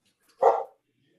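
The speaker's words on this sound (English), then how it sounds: "whoever has that dog barking, please mute your microphone" A single short dog bark breaks out near a microphone during an online public meeting, loud and brief against near silence.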